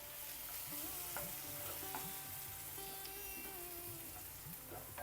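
Curry leaves sizzle and crackle in a hot pan of oil while taro masala is cooked with coriander and pepper, a steady close frying hiss with soft stirring scrapes throughout and no talking.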